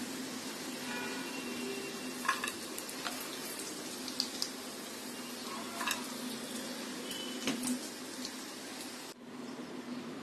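Nuts and raisins fry in ghee in a pan for sujir halwa, giving a steady, soft crackling sizzle. A few clicks of a stirring utensil sound against the pan before the sizzle cuts off near the end.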